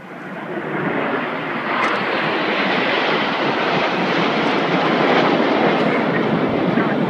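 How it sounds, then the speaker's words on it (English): A Eurofighter Typhoon jet pulls up into a loop at around 400 mph during a Red Arrows airshow at Torquay, its engine a loud, continuous broadband roar that holds steady and swells slightly throughout. "they're going to pull up at 400 miles an hour in the Typhoon loop"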